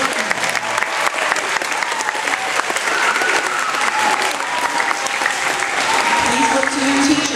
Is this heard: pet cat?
no